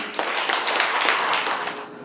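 Audience applause at a Korean literary award ceremony in Yeongju, a steady wash of many hands clapping in a hall that stays loud throughout, with no voices over it.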